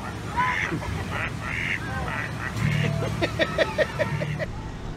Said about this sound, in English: Disney ducks. You gotta love them.